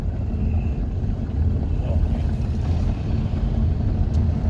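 A truck engine idles steadily, a constant low rumble close by from inside the cab, with no break or change in pitch.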